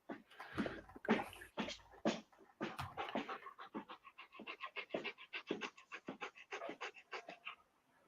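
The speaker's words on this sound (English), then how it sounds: "I think my one of my dogs is panting rather loudly here" A dog pants loudly and close by, a long run of rapid, rhythmic breaths that repeat steadily with no talking over them.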